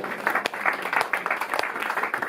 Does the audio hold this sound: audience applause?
yes